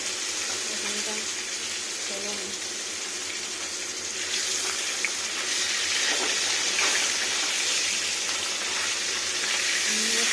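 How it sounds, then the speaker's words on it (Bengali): A fish head frying in a small amount of oil for a cabbage dish gives a steady, hissing sizzle that grows a little louder and crackles partway through. "ভালো করে ভেজে নিই"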